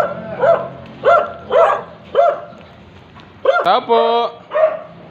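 Several dogs bark in repeated bursts nearby, with a high yelp or whine among them, while a person calls out briefly.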